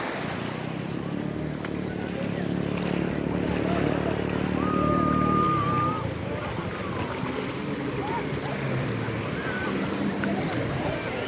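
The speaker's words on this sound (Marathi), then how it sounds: "आणि ही मोठी लाट येता बहिणारी" A big sea wave rolls in and breaks on the Malvan shore of Sindhudurg while a fishing boat is pushed out, a loud roar of surf and wind with voices mixed in.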